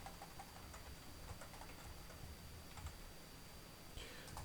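Faint typing on a computer keyboard, light scattered key clicks at an uneven pace, soft and low against a steady background hiss, with no talking.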